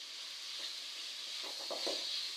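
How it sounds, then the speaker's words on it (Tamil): Chopped tomatoes cook in a pan for white chickpea curry, a faint, steady sizzling hiss with a few soft stirring scrapes toward the end. "இப்போ இந்த தக்காளி நல்லா வெந்து வரணும்."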